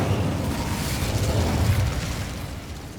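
Incendio fire spell cast in the video game Hogwarts Legacy, a dense roaring burst of flame that holds steady and loud for about three seconds before easing slightly, with no voices.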